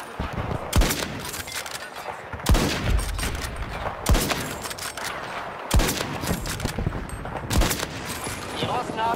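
XCEBAR sniper rifle fire in the Battlefield 2042 video game: five loud, sharp shots at steady intervals of about a second and a half, each with a short rumbling tail, and faint talk underneath.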